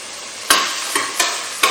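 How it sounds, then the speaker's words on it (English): Bacon sizzles steadily in hot olive oil in a pot, a loud continuous crackle broken by a few sharp stirring scrapes and clanks. "You can hear that beautiful sizzle of the pan when you know your oil's hot enough."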